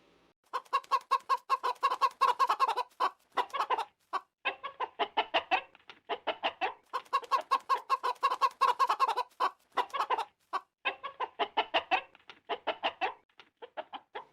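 Cartoon chickens clucking in quick repeated bursts, a busy rhythmic series of clucks with short pauses, close and clear with no talking.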